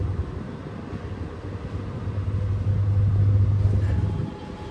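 An elevator-style lift runs with a steady low engine rumble that swells midway and then drops off near the end, with no voices over it.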